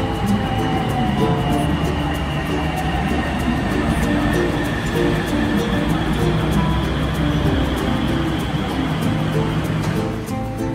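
Purple line train heading into the city, a steady loud rumble and rolling rail noise from inside the carriage throughout, easing slightly at the end.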